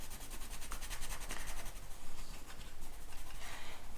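Soft, continuous scratchy rubbing of watercolor pencils coloring on paper, close by, with steady strokes and no voices.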